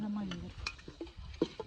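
Mutton stirred and fried in a pot at an outdoor friends' party, with scattered scraping and clinking of a utensil against metal and soft sizzling, short irregular hits close by.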